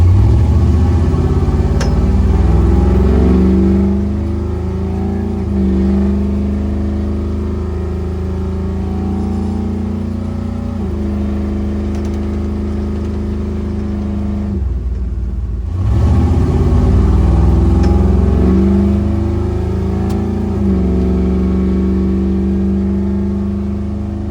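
A Chevrolet S10 with a swapped 6.0 LS V8 and a 4600 stall converter, its engine droning loud and close, rising and easing in pitch, dipping briefly mid-way, then revving back up hard.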